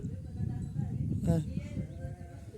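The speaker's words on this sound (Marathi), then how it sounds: "काय मेंढ्या चालल्या आहे" A single sheep bleats briefly amid low rumbling outdoor noise on a rainy green hillside, the call short and wavering, fairly close.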